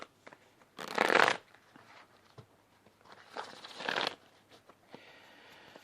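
Tarot cards shuffled in two brisk bursts, a crisp riffling flutter each time with a short pause between, close and clear with no talking.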